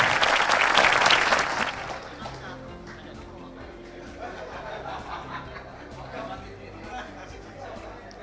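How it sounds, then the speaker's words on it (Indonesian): Applause from an audience at an anniversary thanksgiving ceremony, loud for about two seconds and then fading into a murmur of chatter and scattered voices. "Kita berikan tepuk tangan"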